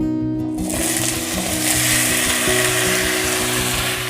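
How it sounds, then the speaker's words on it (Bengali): Vegetables, including taro, fry in a pan for a Bengali vegetarian Malabar spinach dish, giving a loud, steady, close sizzle that starts abruptly and continues without pause. "বন্ধুরা, এই সবজিগুলোকে আমি প্রথমে ভেজে নিব।"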